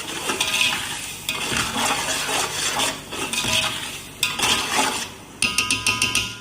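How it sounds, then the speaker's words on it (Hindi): A spoon stirs soy sauce and vinegar into chicken macaroni in a pan, giving steady scraping and sloshing with a light sizzle, then a run of sharp metallic clinks near the end. No voices. "मिक्स करेंगे अच्छे तरीके से इसको"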